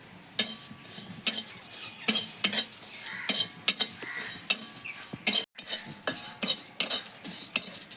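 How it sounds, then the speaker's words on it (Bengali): Cumin, five-spice mix and dried red chillies fry in a pan for a tangy-spicy jujube pickle: a soft, steady sizzle broken by a run of sharp spoon scrapes and metal clinks as the spices are stirred. "আগে আমি এই জিরে, 5 ফোড়ন আর শুকনো লঙ্কাটা ভেজে নেব"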